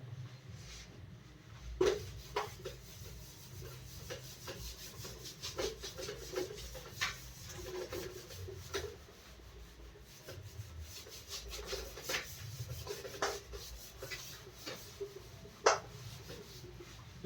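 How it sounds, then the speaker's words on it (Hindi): Writing is rubbed off a classroom board with quiet, repeated scrubbing strokes in an irregular rhythm, soft and close with occasional sharper scrapes. "अब थोड़ा सा मैं इसको दोस्तों रब कर देता हूं"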